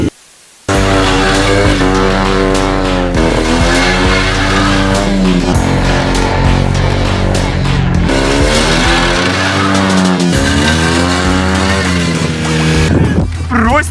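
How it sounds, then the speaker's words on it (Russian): A lowered car with a low-slung muffler drives past, its exhaust rumbling loud and close as the engine note rises and falls through gear changes, while someone talks excitedly over the noise. "глушитель прямо стелит, Вася, стелит красиво"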